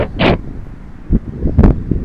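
Strong gale-force wind buffets the microphone outdoors during an FPV drone flight, coming in loud, irregular gusts separated by brief lulls.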